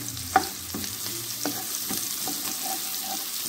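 Onion sautéing in butter in a pan, a steady close sizzle and frying hiss with a few soft stirring taps spaced through it, and no voices.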